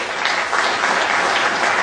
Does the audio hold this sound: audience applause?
yes